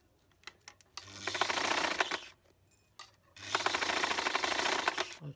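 A sewing machine stitches in two rapid bursts of clattering needle strokes, each lasting about a second, separated by a pause with a few isolated clicks as the fabric is turned, close and fairly quiet.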